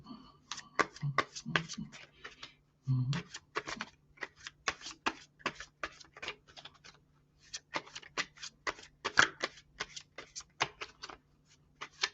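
Tarot cards are shuffled in quick bursts of crisp riffling and flicking slaps, close and clear over a quiet background, with short pauses between runs.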